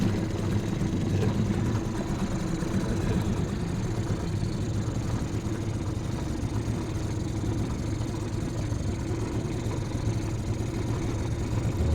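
A Mercury 2.5 hp two-stroke outboard motor runs on a 12-foot V-hull boat, holding a steady, buzzy idle-like drone at moderate distance that stays constant the whole time.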